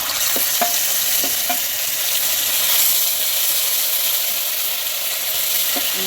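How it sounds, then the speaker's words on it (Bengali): Coriander and cumin paste sizzles steadily in hot oil, a loud continuous frying hiss with a few soft utensil taps, close and without talk. "এরপরে যে বেটে রেখেছিলাম ধনে আর জিরে বাটাটা দিয়ে দিলাম।"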